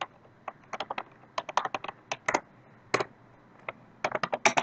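Keys clack on a computer keyboard while configuring a serial port IP, irregular bursts of sharp taps with brief pauses between runs, close and moderately quiet with no talking.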